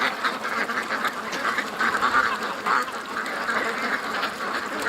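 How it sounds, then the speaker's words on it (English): A flock of ducks quacks continuously near a creek, a busy overlapping chatter of loud, close calls that fills the whole stretch without pause. "Come on, ducks."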